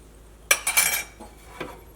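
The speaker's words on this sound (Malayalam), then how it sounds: "ഈ മുട്ടയും സവാള ഇതും കൂടിയിട്ട് നമുക്ക് നന്നായിട്ടൊന്ന് മിക്സ് ചെയ്യാം" A spoon clinks and scrapes against a bowl in a few quick strokes while egg, onion and salt are mixed together.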